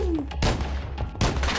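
Gunfire from a boss captain in a Minecraft modpack, two sharp loud shots about three quarters of a second apart, each with a short noisy tail, amid game background sound.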